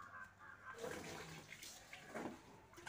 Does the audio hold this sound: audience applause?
no